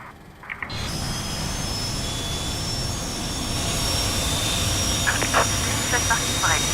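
Engine of a Fokker F28 jetliner spooling up in Microsoft Flight Simulator, a steady whine and rumble that builds gradually, with faint clicks near the end.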